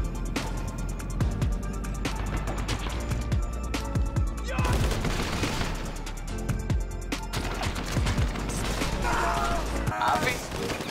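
GTA Online gunfire rattles in repeated bursts and scattered shots across a continuous low rumble, with mechanical clicks mixed in and some voices in the background.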